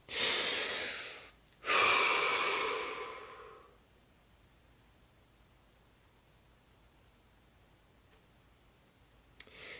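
Two deep breaths close to the microphone, a long airy inhale and then a slower exhale, followed by near-silence with a faint click at the end.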